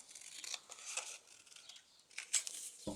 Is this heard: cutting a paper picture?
yes